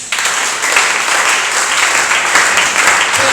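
A church congregation applauding at a prayer gathering, dense sustained clapping close and loud throughout.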